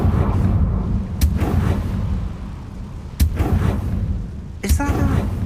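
A Confringo blasting spell explodes in the Hogwarts Legacy video game, giving three sharp booming blasts spread over a few seconds above a steady rumbling game background.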